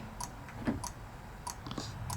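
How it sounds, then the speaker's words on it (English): Sharp, sparse clicking from a drift-car part-out scene with a drone nearby, a few separate dry ticks spaced irregularly over a low steady hum, fairly faint and without talk. "Why is this guy clicking?"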